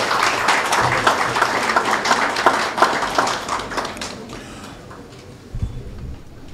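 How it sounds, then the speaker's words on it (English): Audience applause at a building handover ceremony for an honoree, a crowd of hands clapping loudly and steadily before thinning out and fading over the last couple of seconds. "Please let us give a round of applause to our honoree this evening."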